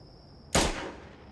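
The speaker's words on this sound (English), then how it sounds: "I'm gonna go behind the house here and shoot and see what happens." A single loud, sharp shot from a single action revolver in the game Schedule I, a sudden crack with a short decaying tail, standing alone over a steady faint tone.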